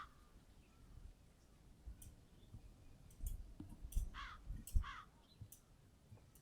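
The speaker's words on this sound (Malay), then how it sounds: "Sumpah aku hilang gagak tadi." A crow in a video game gives a few harsh, raspy caws near the middle of the clip, among scattered sharp clicks and taps over a quiet background.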